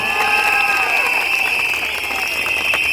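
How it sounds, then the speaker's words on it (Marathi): At a political rally in Maharashtra, a large crowd claps and cheers in a loud, dense, continuous roar. Shrill whistle-like tones ring over it, and voices mix into the noise throughout. "एकदा जोरदार टाळ्या या चिमुकल्यांसाठी झालं पाहिजे"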